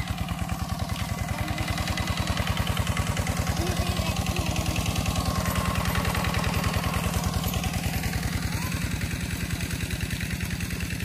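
A mid-sized engine chugs steadily nearby in rural rice fields, a loud, even rhythmic putter holding for the whole stretch with little change.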